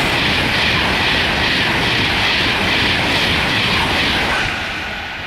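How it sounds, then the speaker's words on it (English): A Virgin train rushes through a railway station without stopping, a loud continuous roar of wheels and rushing air that holds steady throughout, then begins to ease slightly at the end. "there goes another Virgin train ripping through the station"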